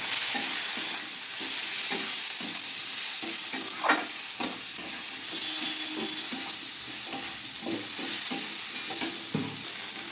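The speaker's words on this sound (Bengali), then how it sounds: "কেটে রাখা টমেটো চেরা কাঁচা লঙ্কা অল্প চিনি ভালো করে পেঁয়াজের সাথে মশলাটা আমি কষিয়ে নেব" Spice paste with onion, chopped tomato, slit green chilli, Kashmiri chilli powder and a little sugar sautés for a chicken curry, giving a steady sizzle with repeated scraping strokes of a spoon across the pan, no talking.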